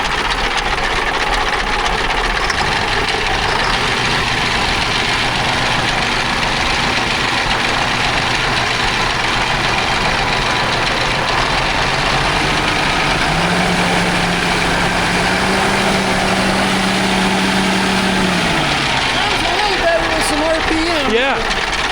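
An old truck, originally fitted with a Cummins diesel, idles with a steady low rumble and a loose rattle throughout, while people talk in the background.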